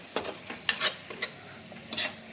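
A spatula scrapes and stirs spice masala with finely chopped coriander in a hot pan, with soft sizzling between several short, distinct stirring strokes and no talking.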